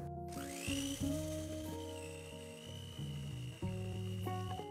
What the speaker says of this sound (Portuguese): E agora eu vou bater até misturar tudo em velocidade baixa na batedeira, só para misturar com o chantilly esse recheio.